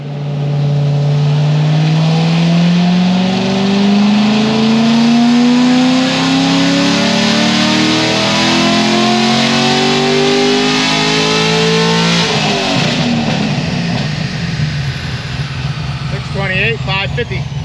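Stage 4 C6 Corvette Z06 V8 on a dyno, revving in one long sweeping pull that climbs steadily in pitch for about twelve seconds, then drops off with crackling, loud and close.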